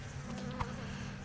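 Bees from a carried hive buzz in Lord of the Rings Online, a steady droning hum close by that persists throughout with no voices.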